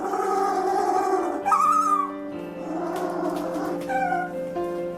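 A penguin named Jing Jing giving strange, wavering calls while greeting the man who raised it, a few nasal, moaning cries close by, rising and falling in pitch, with no speech.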